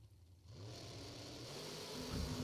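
Drag racing cars at King of The Creek, including a dragster, head down the track with an engine drone that swells and rises in pitch over a couple of seconds, heard from some distance.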